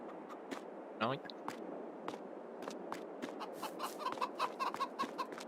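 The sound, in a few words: chickens clucking in Farming Simulator 22 video game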